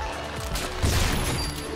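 Gunfire in the video game Lollipop Chainsaw during a baseball stage, a dense burst of loud shots with a heavy low boom near the middle, layered over busy game sound and music.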